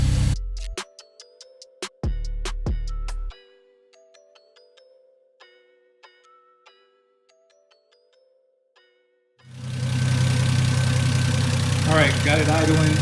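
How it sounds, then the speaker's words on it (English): A steady low engine rumble from a Lexus SC300 idling rich at first start settles in near the end after a stretch of electronic chimes and ticking tones. "Still idling really rich, but I'll fix that."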